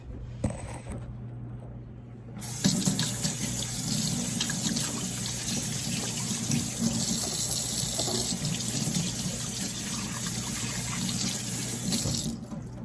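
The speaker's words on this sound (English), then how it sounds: "now I'm gonna wash my hands to get that cookie dough off" Water runs from a kitchen tap into a sink during handwashing, a steady close rush that starts after a short quiet pause and continues unbroken until shut off near the end.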